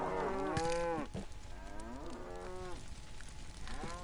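Cows moo in the video game LittleBigPlanet 3, several long, drawn-out lowing calls one after another, fairly faint and alone with no talk over them.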